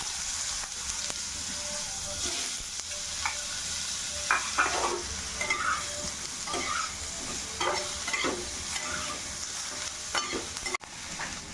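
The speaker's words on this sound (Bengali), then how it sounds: "এবার আমি এঁচড়গুলো ভেজে নেবো" Young jackfruit pieces fry in hot oil with a steady, close sizzle, broken by scattered stirring scrapes and spatters through the whole stretch, no voices.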